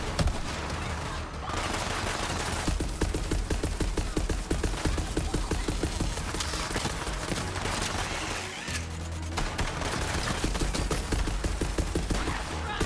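SMG fire in Borderlands 3, played co-op on Xbox One X: continuous rapid bursts of loud automatic gunfire, with one short pause, filling the whole stretch.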